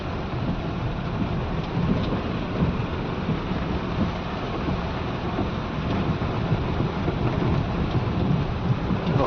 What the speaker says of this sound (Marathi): पाऊस किती पडतोय.